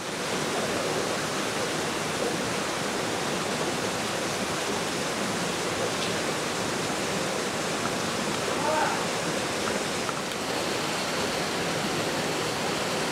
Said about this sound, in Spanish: Como ven, esta es la cascada, una de las cascadas y otra que está a mis espaldas.